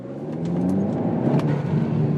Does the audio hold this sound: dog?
no